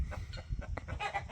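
Rooster in a backyard flock, clucking in short repeated bursts at close range, with background farmyard rustle and no talking.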